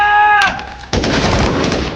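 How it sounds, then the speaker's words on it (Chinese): Intense gunfire exchange in a jungle during an action-film shootout: a dense, loud burst of overlapping shots erupts about midway, after a brief tonal passage. "双方迅速在丛林中展开了激烈对射"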